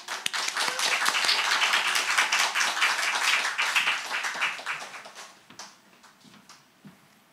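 A church congregation at a Wednesday service claps to welcome the preacher. The applause is dense and steady for about five seconds, then thins to a few scattered claps and fades.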